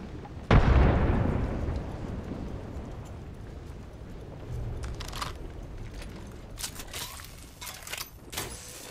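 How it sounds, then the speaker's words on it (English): A grenade goes off in Apex Legends with a sudden loud boom that rumbles and fades over a couple of seconds, followed by scattered lighter gameplay clatter and pops. "Grenade."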